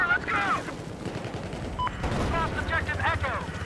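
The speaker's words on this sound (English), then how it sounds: "I'm getting shot at from just about every single angle" Gunfire in the Battlefield 4 video game: bursts of automatic fire crackle from several directions and distances, with occasional heavier booms, continuous and loud throughout a chaotic firefight.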